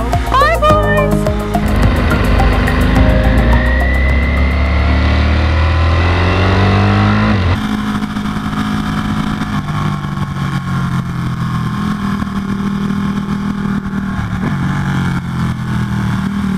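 A Ducati Panigale V4 Speciale and a 1199 Tricolore ride off on a canyon road, engines loud and close as they rev and climb through gears, then fade into the distance.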